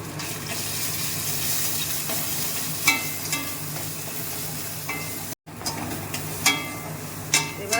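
Spice paste of ground ginger, cumin and fennel with turmeric and chillies being sautéed in a pan, a continuous hiss of frying with occasional sharper scrapes of a spatula and one brief cut to silence partway through.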